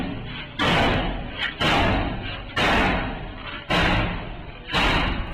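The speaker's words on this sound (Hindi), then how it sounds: "इसीलिए ये लात से नहीं बल्कि सीधा हथौड़े से ही दरवाजा तोड़ने लगा" A soldier pounds a door with a hammer, five heavy, loud, close slams at roughly one-second intervals with ringing decay between them and no talk.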